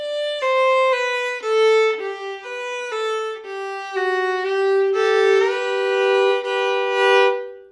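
An old-time fiddle plays the fourth phrase of the tune "Roscoe" solo and up close, a bowed line of clear sustained notes that moves into ringing double stops toward the end.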